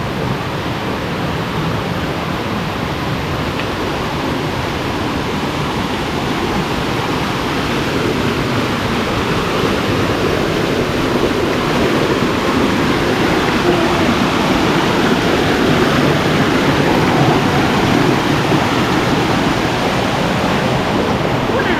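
Continuous heavy roar of Krok I Dok waterfall in Saraburi, Thailand, dense and unbroken, loud and close throughout with no other clear sounds.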